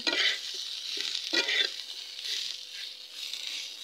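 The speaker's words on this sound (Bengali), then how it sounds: "এগুলো ভালো করে লাইড়ে ছেড়ে একটু ভাজা ভাজা করবো।" Chopped onions and coriander leaves sizzle in a pan, stirred with a few distinct scraping strokes that bring brief louder crackles over a soft continuous hiss, close up and without any talking.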